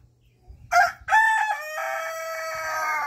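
A rooster crows nearby, a loud drawn-out call preceded by a short clucking burst, with faint low rumbling in the background, among brooding hens.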